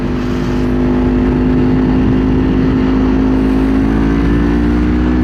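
A 2024 Kawasaki Ninja 500 motorcycle engine drones loudly and steadily, its pitch rising slowly as the bike accelerates, close and continuous with no voices.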